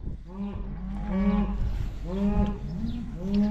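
A cow and calf on a farm moo repeatedly at close range, several drawn-out lowing calls in overlapping succession, with no speech.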